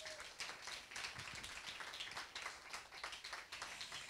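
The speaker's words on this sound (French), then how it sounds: "Merci aussi d'applaudir Madame Nabila Garner-Mazouni," Audience applause at an MT180 (My Thesis in 180 Seconds) event at the University of French Polynesia. The clapping is faint and distant, with a dense, steady patter of many hands across the whole stretch.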